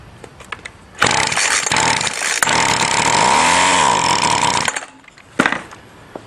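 A small two-stroke weed eater string trimmer engine fires after a pull on a shot of gas, buzzing loudly and raspily for about four seconds before dying out, followed by a short burst of rattling noise.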